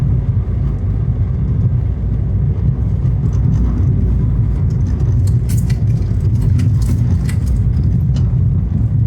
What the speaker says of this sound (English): I was travelling quite slow, but I'm easing off now because this is a wee bit of an inhabited area.